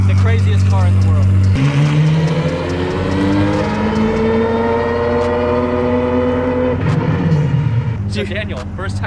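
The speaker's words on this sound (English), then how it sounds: "So Daniel, first time you've seen that car on the road, what do you think?" An Apollo IE hypercar drives on the road at the Long Beach Grand Prix, its engine roaring loudly and close, with revving and shifts in pitch as it passes.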